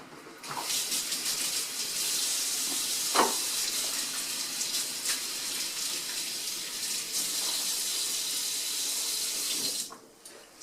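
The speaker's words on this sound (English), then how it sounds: "let me wash my hands" Tap water runs steadily into a sink while hands are washed before making pie crust, a constant close hiss with small splashes and shifts, stopping abruptly near the end.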